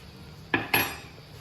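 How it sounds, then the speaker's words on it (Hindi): A metal utensil strikes a bowl while sweet bread-and-milk ingredients, tinted with raspberry colouring, are mixed. Two sharp clinks come close together, then quiet. "इसको अच्छी तरह मिक्स कर लें।"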